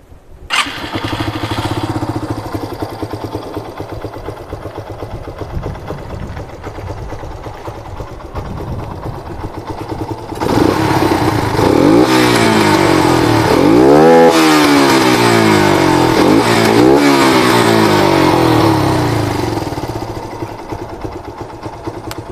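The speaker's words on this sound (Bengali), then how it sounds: "তো গাইস, এটা ছিল প্যান্থারের স্টক আওয়াজ।" A Panther motorcycle with its stock exhaust starts and idles in a loud, close, steady thrum, then is revved through several rising and falling throttle blips before settling back to idle.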